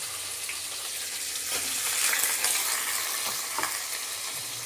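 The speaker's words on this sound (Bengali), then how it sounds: "এইগুলো দিয়ে দেবো তেলের ওপর। এগুলোকে আগে ভেজে নেব।" Thinly sliced broad beans and potatoes fry in hot oil, a dense, continuous close-up sizzle with faint stirring movement throughout.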